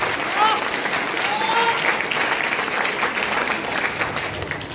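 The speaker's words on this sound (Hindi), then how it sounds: "एक बार इनके सम्मान में तालियां बजा दीजिए।" An audience at a bank company gathering applauds steadily, a dense wash of many hands clapping at even volume throughout, with faint voices mixed in beneath.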